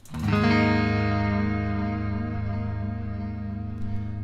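A single guitar note swells in smoothly, then rings out long and steady through a lush reverb, fading only slightly.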